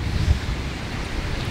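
Steady wind and surf rolling onto a beach at Tanjung Lesung, a continuous low wash of breaking waves with gusts buffeting the microphone, no voices present.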